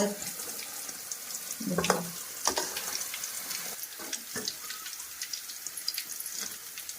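Cubes of paneer fry in hot oil in a pan, giving a soft crackling sizzle with a sharper burst of spatter near the start and scattered pops and clinks after it.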